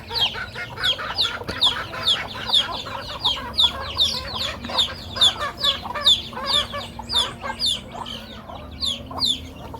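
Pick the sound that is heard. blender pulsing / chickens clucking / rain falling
chickens clucking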